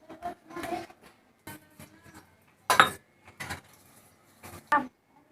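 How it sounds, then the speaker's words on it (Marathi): Dishes are washed in a home kitchen, with intermittent clinks and clatters of utensils coming in short, irregular bursts separated by quiet gaps. "भांडी घासा किचन साफ करा"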